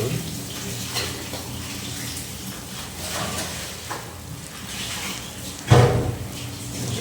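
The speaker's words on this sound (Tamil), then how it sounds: "கொஞ்சமாக தண்ணி ஊற்றிக்கலாம் பாருங்கள்" Water poured in a thin stream into a pan of chicken gravy being cooked, a steady soft splashing hiss running throughout with a brief louder clatter near the end, no speech.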